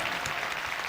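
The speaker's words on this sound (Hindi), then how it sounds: "आओ उसके कलाम के लिए जोरदार तालियां बजाएं" A church congregation applauds during a Hindi-language Christmas sermon, a dense, steady wash of clapping from many hands filling the room at even loudness, with no voices over it.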